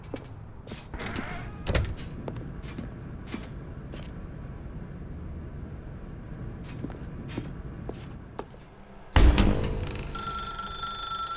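A telephone rings in The Stanley Parable video game, a sudden loud burst near the end after a stretch of quieter ambient clicks and thuds, with the ringing tone sustained to the close.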